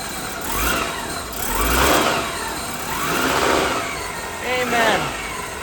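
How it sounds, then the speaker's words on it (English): A car engine revs up several times in a row, each rise and fall of pitch rolling out as a loud swell followed by a drop back toward idle. "Give it a couple of revs."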